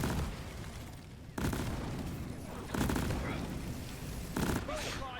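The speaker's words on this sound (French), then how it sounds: "mon explosion a activé l'œuf" Explosions in the Deep Rock Galactic video game: three loud, booming blasts at roughly evenly spaced intervals, each with a sharp onset and rumbling tail, alongside game noise.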